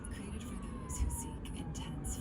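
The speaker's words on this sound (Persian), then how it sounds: "آمبولانس رد شد" Ambulance siren passing on a street, a faint wailing tone sliding slowly downward as it goes by, with repeated higher-pitched whoops and steady traffic rumble underneath.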